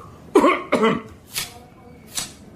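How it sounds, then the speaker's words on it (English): Several sharp coughs in quick succession, close and fairly loud, followed by a couple of fainter throat-clearing bursts with quiet gaps between. "No, that was a real cough."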